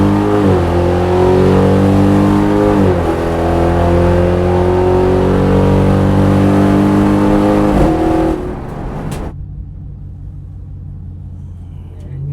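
A naturally aspirated 392 Hemi car launches and accelerates hard down a drag strip, its loud engine roar climbing in pitch with two audible shift breaks, then dropping away as the engine lifts off near the end; no talking.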